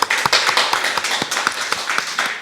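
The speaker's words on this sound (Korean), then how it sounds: "우리 환영의 박수 하겠습니다" Welcome applause from a small church congregation at a Korean-language service, a loose handful of distinct, fairly close claps at an uneven rhythm rather than a dense roar.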